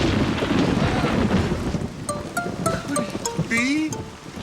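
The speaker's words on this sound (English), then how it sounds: "It's raining." Steady rain with a low thunder rumble in a cartoon scene, a broad wash through the first half giving way to softer patter while voices and playful sound effects come in near the end.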